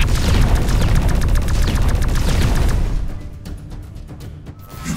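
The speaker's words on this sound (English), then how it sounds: "The aliens are shooting at us." Rapid alien gunfire in X-Morph: Defense rattles loud and dense for about three seconds as a fast stream of shots, then breaks into scattered sharper bursts over a quieter rumble.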